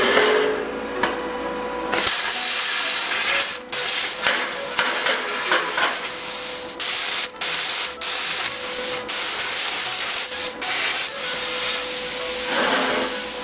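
An Espada 40 plasma cutter slices through metal, giving a loud continuous hiss and spray with a thin whine, broken by short gaps and sputters as the cut proceeds.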